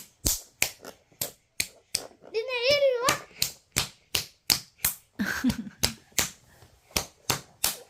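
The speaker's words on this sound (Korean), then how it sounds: "박수 좀 쳐봐" A parent and baby at home, with about fifteen sharp, evenly spaced hand claps running through the whole stretch, close and fairly loud. A voice and brief talk break in near the middle.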